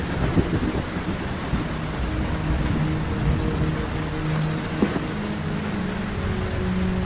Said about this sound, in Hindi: जंगल में बहुत तेज बारिश हो रही है।